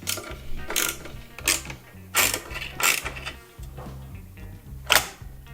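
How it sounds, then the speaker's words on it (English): A dusty CPU cooler being worked loose from a computer processor gives a run of sharp clicks and ratcheting clacks, some louder than others, close up and with no talking. "here's how to take your CPU cooler off and replace your CPU"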